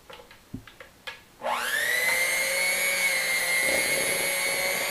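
An electric hand mixer starts up after a few light taps and whirs steadily, beating egg into cookie dough for Halloween witch finger cookies, a loud constant motor whine.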